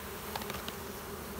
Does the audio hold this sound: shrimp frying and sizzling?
no